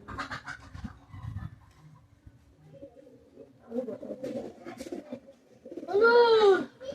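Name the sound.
Pakistani high flyer pigeons cooing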